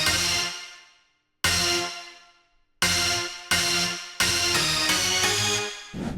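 A 90s rave stab synth with a small reverb fires short, bright chord hits, first spaced, then in quicker succession, each decaying into a brief tail, loud and alone.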